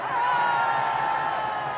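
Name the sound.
crowd of teenagers cheering at a rally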